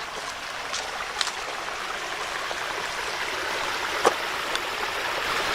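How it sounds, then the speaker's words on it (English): A woodland stream runs below a waterfall, giving a steady, soft broadband rush of flowing water heard from a short distance, with a few faint clicks and knocks on top and no voices. "You might be able to hear the stream a little bit down there."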